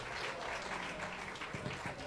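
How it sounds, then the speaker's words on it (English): Audience applause following a Bamboo Orchestra performance at a UN slavery resolution conference, steady clapping from a crowd filling the hall, moderately quiet and continuous. "they're yours for the applause"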